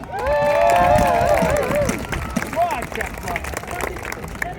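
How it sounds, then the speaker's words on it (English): Crowd at an outdoor river festival in Bedford cheers and claps, with loud whoops and whistles over the first two seconds before settling into steady applause and crowd noise. "Earl Daniel of Chester, everyone give a round of applause, ladies and gentlemen."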